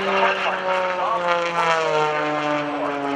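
An aerobatic propeller airplane tumbles and hovers in the vertical at the 2012 NAS Oceana Airshow, its engine droning steadily with shifting pitch harmonics and continuous and loud across the whole stretch.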